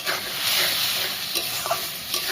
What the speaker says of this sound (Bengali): জলটা দিয়ে আর একটু কষিয়ে নেব।